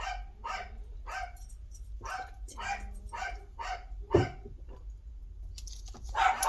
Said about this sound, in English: the dogs are at it.